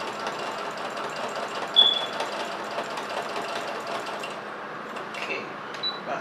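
A sewing machine back stitches a neck placket, whirring in a quick, even mechanical chatter for a few seconds, with a brief louder clunk near the start and a short pause toward the end.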